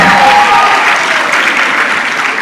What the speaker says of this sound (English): another round of applause for the team from Senior Chief Adano